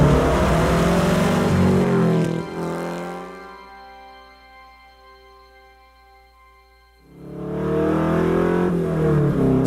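Porsche 906 race car, one of five built for a film, with its engine revving hard up close, then dropping to a smooth idle for several seconds before a second loud rev swells back up.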